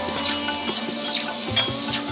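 Ash gourd pieces stirred in a cooking pan, a continuous low sizzle with regular soft scraping and clacking strokes of the utensil about twice a second, close up and with no talking.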